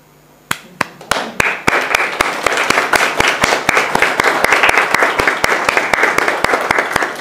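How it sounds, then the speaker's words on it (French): Workshop participants start applauding, beginning with a few loud, distinct claps close by and quickly building into steady, dense applause that carries through to the end. "vous puissiez vous applaudir"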